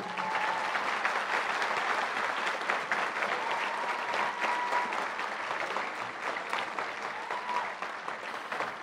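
An audience at an award ceremony applauds graduating young people in a long, steady roll of clapping that stays even from start to finish, with a faint tone running beneath it.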